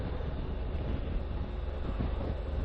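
A train rolls steadily past a level crossing, a continuous dense rumble and clatter of railcars close by, even in loudness with no talk over it.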